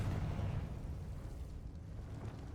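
A Confringo fire spell blasts in Hogwarts Legacy, a fairly quiet, low rumbling burst that fades away over a couple of seconds, with no talk over it.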